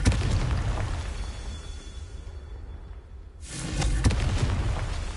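Confringo spell explosion in the Hogwarts Legacy video game: a loud booming blast that rumbles and fades, followed by a second sharp burst and roaring rumble.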